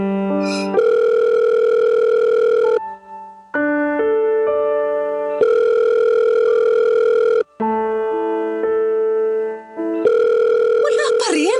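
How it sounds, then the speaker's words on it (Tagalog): A telephone ringing unanswered, long steady electronic tones repeating in bursts with short gaps between them, loud and close. "Ring lang ng ring, hindi man lang sagutin."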